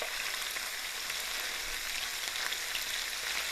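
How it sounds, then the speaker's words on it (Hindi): Ginger garlic paste browning in oil for dahi kofta, a steady soft sizzle with fine fizzing crackle, fairly quiet and even throughout, no talking. "इसमें डाल दीजिए आप जिंजर गार्लिक पेस्ट, हल्का सा ये ब्राउन कर लें।"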